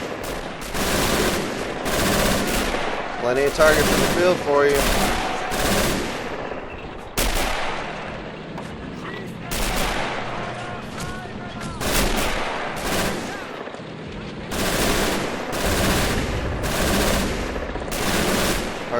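MG42 machine gun fire in the Men of War: Assault Squad 2 video game, with repeated loud bursts of rapid automatic fire and explosions over a battlefield while a voice talks.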